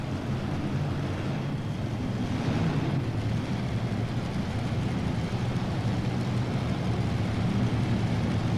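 Steady loud engine roar from a tractor pull on a dirt track at a farm machinery show, with a two-motor tractor running, continuous broadband drone with rumble and wind buffeting throughout.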